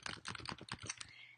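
Rapid typing on a computer keyboard, a close series of quick key clicks in irregular rhythm, ending with a sharper final keystroke.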